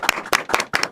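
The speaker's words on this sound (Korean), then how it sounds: "일단 박수 한번 더 쳐" Four separate, sharp handclaps at a small gathering, spaced about a quarter second apart, close and fairly crisp with no crowd behind them.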